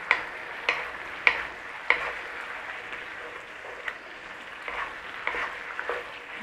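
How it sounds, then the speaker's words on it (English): Black pepper chicken sauce sizzling in a pan as cornstarch slurry is stirred in, with a few sharp utensil clicks early on over a steady frying hiss. "So we just want to add a little bit of our cornstarch slurry. Give it a little bit of a thickness in there."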